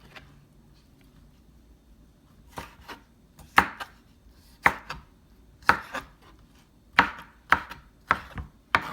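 A knife cuts an onion into long strips on a board, giving about a dozen crisp, close chops that start sparse and then fall into a quicker, uneven rhythm, with no talk.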